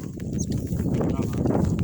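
Hooves clopping and a mare shifting nearby at pasture, with a person talking over the steady, close animal noise.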